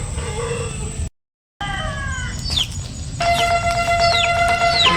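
A domestic cat stuck in a trap cries out in drawn, wavering meows, interrupted by a brief dropout, then sustained wailing over a ringing, metallic background noise.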